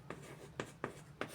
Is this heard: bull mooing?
no